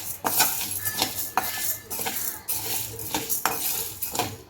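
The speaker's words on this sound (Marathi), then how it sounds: "हे पण थोडं लालसर होईपर्यंत भाजूया, फार नाही करपवायचं आपल्याला।" Chana dal dry-roasting in a pan alongside rice, stirred with a metal spoon that scrapes and clinks against the pan in a steady rhythm of repeated strokes, close and fairly loud.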